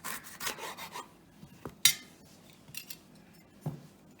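A knife cuts through a capsicum on a board in a cooking class, giving a few quiet scraping cuts and one sharp crisp chop midway, with soft clicks around it.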